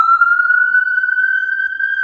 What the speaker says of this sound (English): I'm gonna let that siren pass.